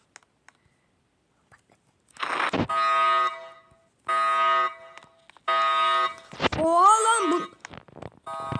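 Repeated electronic buzzing alarm tones in short bursts with gaps between them, ending in a warbling siren-like sweep; fairly loud and synthetic. A bank alarm in a video game.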